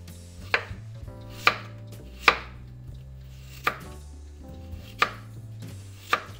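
A knife slices peeled potatoes thinly against a cutting board, giving six evenly spaced, crisp, close knocks over a quiet background.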